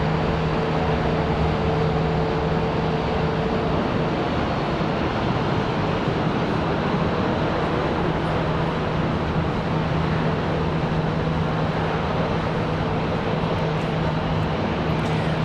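An Etihad airliner taxiing at Charlotte Douglas airport, a steady broad engine roar with a constant whine, loud and unbroken for the whole stretch with no voices.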